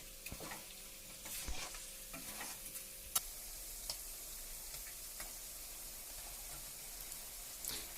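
Halved tomatoes sizzle quietly in a frying pan for handi chicken, with scattered clicks and scrapes as they are stirred, and no talking.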